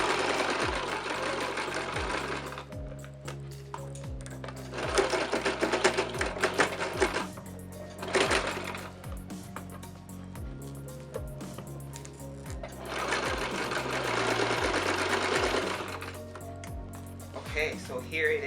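A sewing machine stitches down a bound seam on a paneled ball gown petticoat skirt, running in several bursts of steady rapid whirring with pauses between, close and fairly loud, alongside low background tones.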